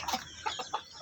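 Young Belgian Shamo x Shamo Aseel crossbred chicks give a handful of brief, soft peeps, close by and fairly quiet, with no speech over them.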